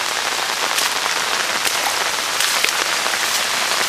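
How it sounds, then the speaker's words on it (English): Heavy rain from the remnants of Tropical Storm Lee in upstate New York, a loud dense roar of drops pounding surfaces close by, unbroken throughout with no talking. "I have never seen this much rain."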